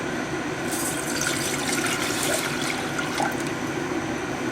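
Water pouring into a large saucepan over high heat for rice pudding, a steady, rushing splash that holds at an even level for a few seconds.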